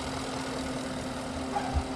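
A Genesis G90 with a 5.0 V8 GDi engine idles with the hood open, a steady low rumble and even hum, close and constant, with no talking.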